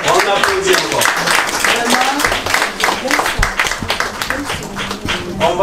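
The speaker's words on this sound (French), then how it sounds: "On applaudit encore." Mourners clap together at the funeral of Madame Mbaloula Louise, a dense, steady round of applause mixed with overlapping voices and murmuring throughout.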